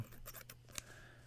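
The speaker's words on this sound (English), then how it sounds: "These are a pretty good pair of scissors." Crisp metallic snips of scissors, a few quick cuts close by, ending in a sharp click, over a low steady hum.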